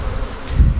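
Italian and Carniolan cross honey bees buzz steadily and close by in a continuous low drone that swells slightly toward the end, with no talking.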